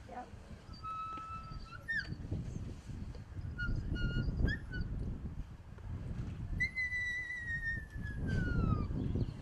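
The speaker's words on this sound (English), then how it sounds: "I'll blow the whistle as low as I can" A shepherd's whistle blown softly for a sheepdog during a sheepdog demonstration: several short, thin rising and falling whistle tones, one long descending note near the end, over outdoor background noise.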